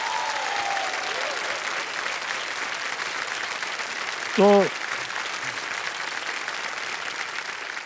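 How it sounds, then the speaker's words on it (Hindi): Studio audience applause on the Kaun Banega Crorepati quiz show set, a steady dense clapping that fills the whole stretch, with a brief musical sting and a short spoken word partway through. "फास्टेस्ट बजर फर्स्ट के साथ तालियां बज जाए उनके लिए"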